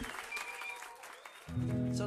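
A concert crowd claps and cheers in a burst of applause, with music starting up underneath partway through.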